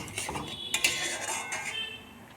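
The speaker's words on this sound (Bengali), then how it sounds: "নারকেল বাটাটা দিয়ে দিয়েছি, ভালো করে নাড়বো।" Spoon scraping and clinking in a pan as coconut paste is stirred and fried with spices, a steady close rasp with a few sharper metallic taps, quiet and alone.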